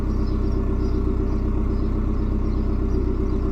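Supercharged Mazda MX-5 Miata engine running at a rough idle, a loud, close, continuous low rumble with a fast uneven pulsing throb and no talking.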